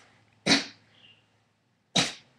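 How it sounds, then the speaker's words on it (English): Two sharp fake sneezes produced as a vocal tic, abrupt and loud bursts about a second and a half apart in a quiet room. "It was either going to do my fake sneeze, here we go, that one, right on cue"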